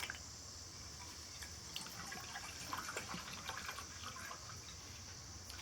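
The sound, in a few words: water being poured into a pot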